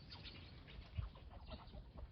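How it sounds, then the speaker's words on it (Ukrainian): A duck quacks repeatedly at close range in short, raspy bursts, with a louder call near the middle against a rough outdoor background. "Покажу свою крикливу качку"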